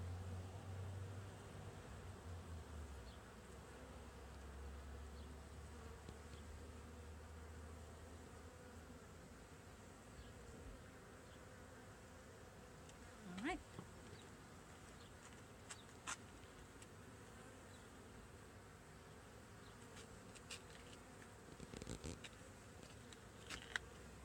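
Honeybees drone steadily around an open hive during requeening, a continuous low insect buzz filling the background with a few brief handling knocks and clicks.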